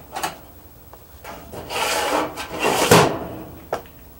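Locking drawer in a 2009 Chevrolet Express 2500 cargo van sliding with a woody rubbing rasp, building to a louder scrape near the end and a short sharp knock as it latches, heard close up with no talk.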